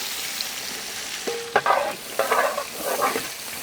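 Onion slices dropped into hot oil with whole spices, sizzling and frying in a pan for a Rajasthani Kabuli pulao, with bursts of crackle and stirring scrapes after a brief clink.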